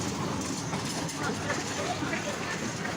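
A children's amusement ride train runs nearby with a continuous rumbling, rattling roll amid crowd babble, while a person talks and imitates its chugging sound.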